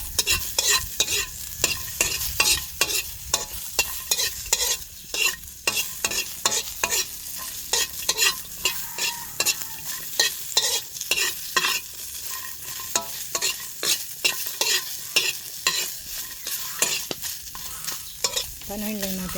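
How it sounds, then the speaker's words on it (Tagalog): Chicken adobo cooking without oil in a pan over a wood fire, with a steady busy sizzle and repeated scraping and stirring strokes running throughout, close and fairly loud. "Magluluto tayo ng adobo. Yan, walang oil. Kasi manok ang gagamitin ko ngayon."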